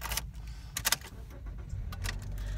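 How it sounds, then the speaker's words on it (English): A 2012 Toyota Corolla is started up, with keys jangling in sharp bursts followed by the engine turning over and settling into a low, steady rumble nearby. "I'm just going to start up the vehicle for you."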